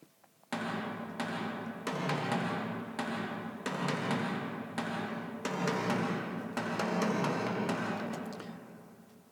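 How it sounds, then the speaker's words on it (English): Booming tom drums struck in a slow, dramatic pattern, each deep hit ringing out and overlapping the next, steady and loud with no voices. "But the toms on their own sound like this."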